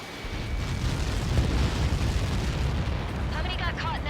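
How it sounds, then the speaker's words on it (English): A massive missile impact explosion from Helios projectiles in the jet combat game Ace Combat 7 rolls out as a sustained, loud, rumbling roar. It stays dense for several seconds, and a voice comes in near the end. "How many got caught in that explosion?"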